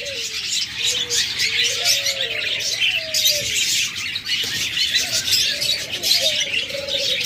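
Pairs of caged lovebirds and other pet birds offered for sale chirp and coo in a steady, busy chorus, with repeated short calls over a constant high twittering background.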